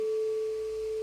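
A singing bowl rings with a steady, pure, mild higher tone and a faint upper overtone, sustained evenly and alone for about a second.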